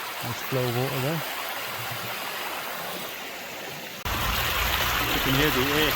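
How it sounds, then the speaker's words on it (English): Steady rush of water pouring out of a freshly dug-open old mine entrance, constant and fairly loud, with a brief voice-like tonal sound early on and an abrupt louder shift partway through. "Nice flow of water there."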